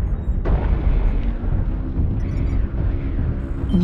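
An artillery strike explodes in a tank video game: a sharp blast near the half-second mark, then a loud, continuous low rumble that rolls on to the end with no voices.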